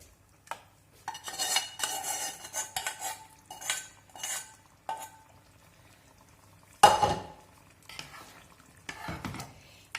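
Rabbit in sour cream being poured into a roasting pan and stirred, with bursts of metal utensil scraping and clinking against the pan, a sharp clatter midway, and soft sizzling between strokes, close and alone.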